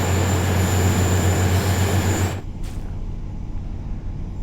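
A TfW Class 153 Super Sprinter diesel train climbs an upward gradient in a video game, its engine a loud, steady, throbbing drone with a high whine that suddenly drops to a quieter rumble partway through.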